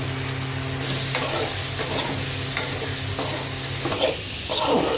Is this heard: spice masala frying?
yes